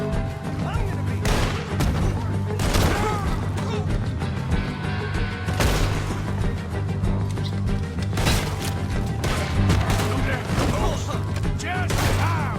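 Repeated gunshots in Red Dead Redemption 2 crack in bursts over a dense, loud mix of game noise with rumbling, clattering impacts throughout, with speech-like voices intermittently present.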